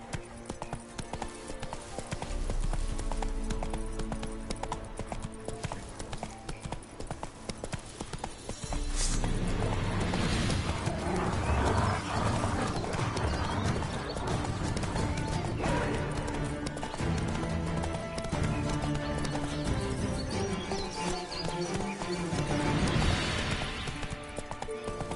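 Roach the horse gallops in The Witcher 3, steady hoofbeats clip-clopping up close with an occasional whinny, all set against a dense, loud game soundscape with music that swells midway.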